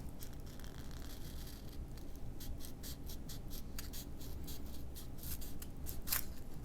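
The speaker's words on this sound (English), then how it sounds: "we're going to add a bevel to the underside of the canopy" Steady scraping and cutting at close range on the underside of a foam canopy for a Mighty Mini P40 SkyFx model plane, shaping a bevel, with a continuous rasping texture and brief sharp ticks throughout, no voices.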